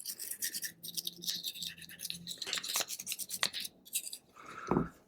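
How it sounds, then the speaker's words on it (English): A toothbrush scrubbing the frame of a Glock 43 pistol, close and quiet, with uneven bursts of bristly scratching and rubbing, a few sharper scrapes and a small clatter near the end. "And then with my toothbrush, I just basically like to clean the area out"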